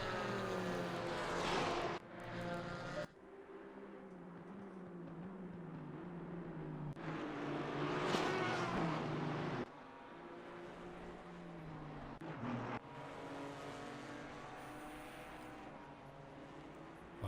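Chevrolet and Porsche GT4 race cars in a sim racing game at the Zolder circuit, their engines droning loudly and steadily as they bounce over curbs, with revs rising and falling and abrupt shifts in tone.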